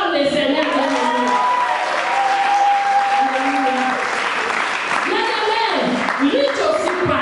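Congregation at a women's church convention applauding loudly and continuously, with cheering voices and shouts mixed into the clapping throughout.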